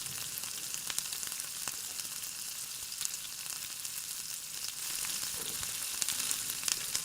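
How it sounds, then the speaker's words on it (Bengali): Chopped onion, garlic and slit green chillies fry on low heat in a pan for Bengali chicken sapta, giving a soft, steady sizzle with a few faint stirring knocks, close and alone. "সেগুলোকেও ভালো করে পেঁয়াজ এবং রসুন কুচির সাথে নাড়িয়ে হালকা আঁচে ভেজে নিতে হবে"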